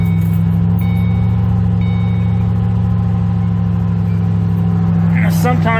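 A Ford Mustang engine idles steadily after its throttle body was cleaned, a loud, close, even rumble that runs throughout while someone talks over it.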